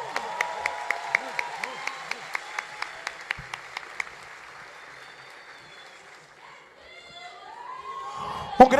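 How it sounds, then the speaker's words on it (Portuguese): Audience applause at a political rally celebrating the culture of Pará, welcoming the Companhia Amazônica de Danças, beginning with steady rhythmic claps over a crowd wash while voices speak over it. "Uma salva de palmas, por favor."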